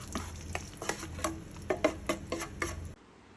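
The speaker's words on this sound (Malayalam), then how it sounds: "പൊടി ഇട്ട് കൊടുത്തിട്ട് നല്ലപോലെ ഒന്ന് ഇളക്കി കൊടുക്കുക" Roasted green gram powder is stirred in ghee in a pan for laddu, about ten rhythmic scraping taps from a spoon, close and clear, stopping abruptly before a quiet tail.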